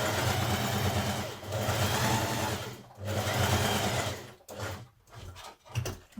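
Sewing machine running two gathering rows a few millimetres apart on a 1940s vintage-style Simplicity 8736 blouse, a steady loud mechanical whir that runs continuously, dips briefly near three seconds, then stutters in short stop-start bursts toward the end.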